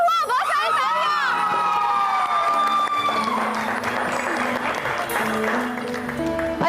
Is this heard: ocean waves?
no